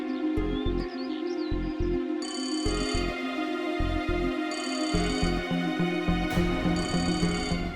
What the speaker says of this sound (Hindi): जीविका का फोन